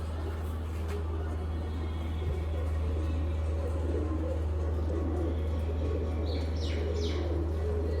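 Neel dumba pigeons coo softly through a steady low hum, with a few brief higher chirps toward the end.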